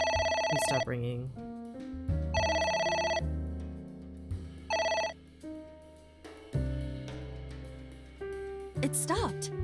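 In the video game AI: The Somnium Files, a phone rings in three or four separate electronic bursts, loud and close, with game music and sound effects between the rings.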